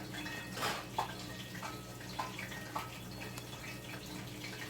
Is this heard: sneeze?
no